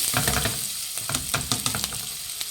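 Chopped onions frying in hot oil give a steady sizzle with crackling pops and occasional stirring scrapes, close and moderately loud, with no voices.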